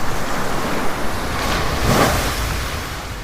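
Ocean waves surging around a boat at sea, a steady broad wash of surf with wind noise, swelling slightly near the middle and continuing alone without voices.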